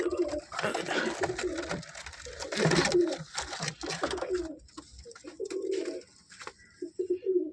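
A single female pigeon gives repeated low coos near the end, close and clear, after a stretch of busier rustling and bird noise.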